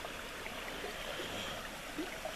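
A creek flows beside a forest trail near Lake Isabel, giving a steady, soft wash of running water that holds evenly throughout at moderate distance.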